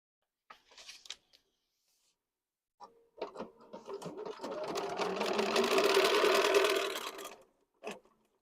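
A sewing machine whirs in a sustained close run of a few seconds, after some brief clicks and handling noises, with a short burst at the end and voices nearby.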